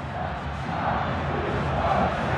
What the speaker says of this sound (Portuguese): a torcida chia